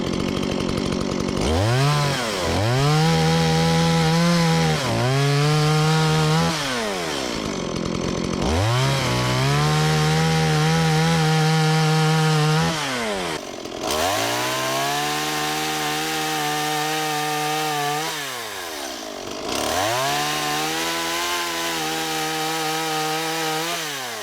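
A chainsaw at an off-grid cabin cuts wood in repeated passes, a loud, close engine that bogs into the cut, holds a steady drone, then revs up and eases off again, with no talk.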